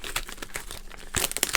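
Scissors cutting through tape on an eBay package, a quick run of crinkling, tearing snips that grows louder and more rapid near the end, close and alone.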